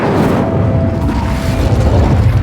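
Incendio fire spell cast in Hogwarts Legacy: a loud, sustained roaring blast with a deep rumbling body that holds steady for a couple of seconds, with no speech.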